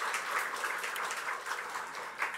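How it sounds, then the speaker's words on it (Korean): A Sunday church congregation claps to welcome a deacon back. The applause is soft and steady, heard from a little distance in a reverberant sanctuary, and fades slightly toward the end. "박수를 한 번 더 격려하시겠습니다."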